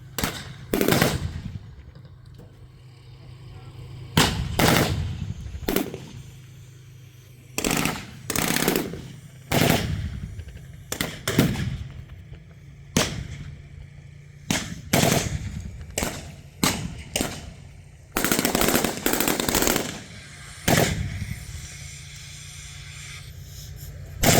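Heavy machine-gun fire from a Humvee trading with a DShK mounted on a T-54 tank, loud repeated bursts of varying length separated by short pauses, continuing throughout with no talking.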